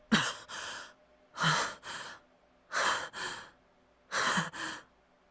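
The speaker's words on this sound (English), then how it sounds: "My heavy breathing comes out as rough and painful." Four rounds of heavy, loud breathing from a video game, each a long rasping inhale followed by a shorter exhale, evenly spaced with brief quiet gaps.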